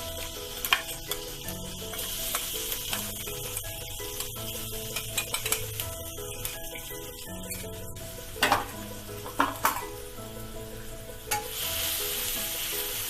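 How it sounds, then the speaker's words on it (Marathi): Mustard seeds and a ground spice paste fry in hot oil for vada pav, a steady close sizzle with occasional clinks and scrapes of a utensil stirring in the pan. "चांगलं तेलामध्ये परतून घ्या।"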